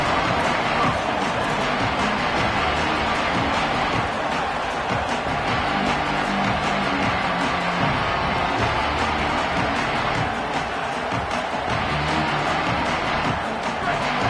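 Stadium crowd noise from the Madden NCAA American football video game, a steady loud roar that holds for the whole stretch with no breaks.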